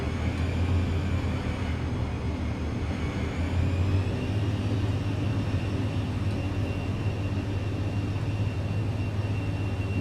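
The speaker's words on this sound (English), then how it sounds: "I do want you to be able to hear the awesome engine sounds on Vision Jet" Cirrus Vision Jet SF50 jet engine in the Microsoft Flight Simulator game while taxiing: a steady, continuous whine and low hum that stays even and fairly loud throughout, with no talking.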